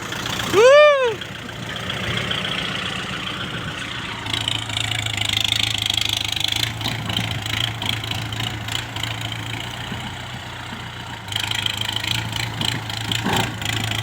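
A farm tractor engine runs steadily while being driven, a low continuous drone with brief louder surges, as people talk and call out nearby.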